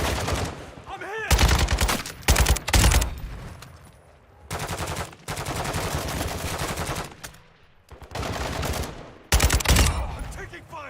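Rapid bursts of gunfire in Warzone 2 DMZ, loud and close, several long volleys separated by brief pauses, with faint voices underneath.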